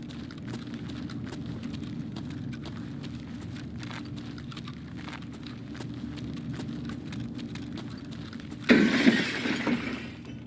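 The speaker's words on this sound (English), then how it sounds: "That's glass smashing upstairs," In a video game, glass smashes somewhere upstairs as a sudden burst of breaking and scattering shards, heard after a long stretch of quiet ambient hum and faint ticking.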